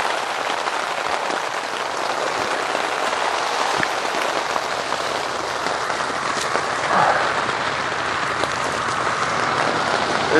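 Heavy rain drumming on a hot tent overnight, a dense, steady hiss of countless drops striking the fabric close by, with no pauses throughout.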